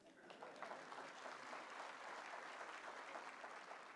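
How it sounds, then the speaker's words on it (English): Audience at Uzima University's graduation ceremony claps steadily, a soft, distant patter of many hands in a large hall that holds at an even level for several seconds. "A better round of applause for him."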